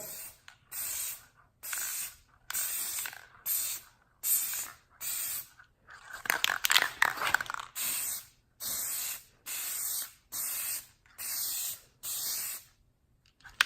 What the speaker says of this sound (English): I'm about to paint this red right here